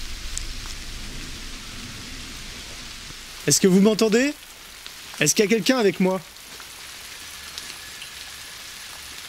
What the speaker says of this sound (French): vu qu'il pleut à outrance.